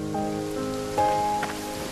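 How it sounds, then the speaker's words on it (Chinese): Rain falls steadily on surfaces in a soft, even patter, with faint sustained tonal notes drifting over it and no voices. "下雨了"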